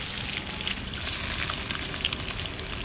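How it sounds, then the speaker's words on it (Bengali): Duck eggs fry in hot oil in a pan, giving a steady, close sizzle and crackle that carries on without pause and with no voices over it. "ডিম কটা লাল করে ভেজে নেব"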